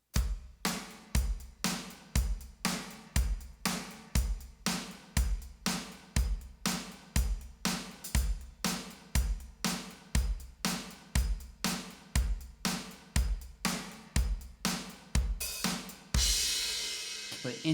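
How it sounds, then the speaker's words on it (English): Rock drum groove with loud, punchy kick and snare hits in a steady, even rhythm and softer hi-hat ticks between them, played alone and ending in a cymbal wash. "for rock grooves, you want your kick and your snare to be the loudest voices of the groove, and then the hi-hat a bit softer"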